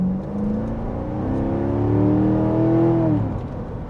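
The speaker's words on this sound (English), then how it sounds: "This is a fun car to drive." A car drives and accelerates nearby, its engine note climbing steadily in pitch through a rising rev before easing off, heard alone without speech.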